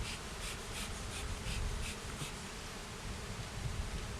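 A dense, steady hum of many honey bees buzzing together in a top bar observation hive, close and continuous, with no voices.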